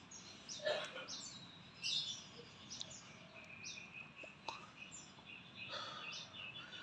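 Oriental magpie-robin (murai) still in training, singing in short chirping phrases and whistles spread across several seconds, faint and somewhat distant over a steady background hiss.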